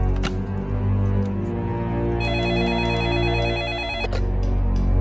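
A telephone rings at a police station, an electronic ringtone trilling steadily over a bed of loud background music through the middle of the clip.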